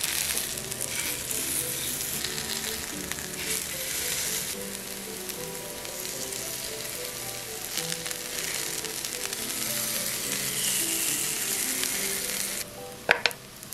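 Cheese-stuffed sweet potato frying in olive oil in a hot pan, a steady close sizzle and crackle that continues for the whole stretch, with a couple of sharp clatters right at the end.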